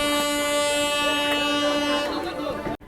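A train pulling out of Varanasi station on the Benaras Amrit Bharat Express, a sustained loud horn tone ringing over station noise before cutting off abruptly.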